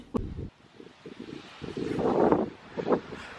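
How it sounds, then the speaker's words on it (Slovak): Strong, cold wind gusting outdoors, buffeting the microphone in uneven surges that build and fade, with rustling beneath and no speech. "Ale hrozný vietor, ono keby ten vietor, tak je dobre, ale strašne fúka."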